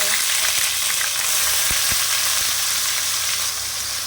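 Onion and green chili paste hitting hot oil in a pan for a prawn curry, a loud, dense sizzle that stays steady throughout, with a few faint clinks of a spoon or pan underneath.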